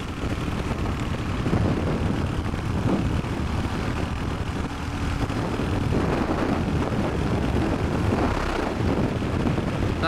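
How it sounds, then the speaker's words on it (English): A 2023 Royal Enfield Hunter single-cylinder motorcycle accelerates at full throttle in fifth gear, a loud, continuous engine roar mixed with heavy wind rush, steady throughout with no talk. "Full throttle, fifth gear."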